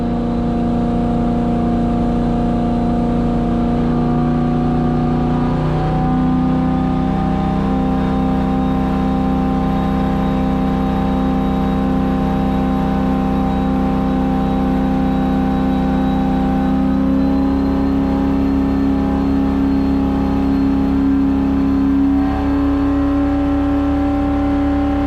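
A turbocharged small-block Buick V8 runs on a dyno with a continuous loud, steady drone whose pitch climbs slowly and shifts a few times over a long pull.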